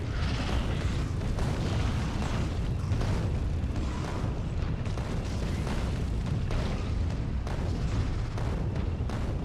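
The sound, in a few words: explosive tank rounds clearing trees in Factorio video game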